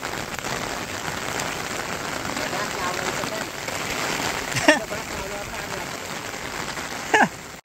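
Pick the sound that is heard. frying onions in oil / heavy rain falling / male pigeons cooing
heavy rain falling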